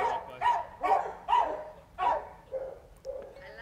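A small dog passing by gives a run of about seven sharp yips and barks in a steady rhythm, fairly close and clear, with no talk over them.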